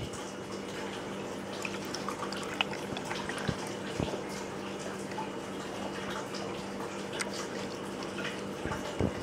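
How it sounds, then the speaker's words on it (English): Water pours steadily into a hang-on-back aquarium filter, a continuous close splashing and trickling wash with a low hum underneath and occasional drips and knocks. "we need to fill up these kind of hang-on filters with water"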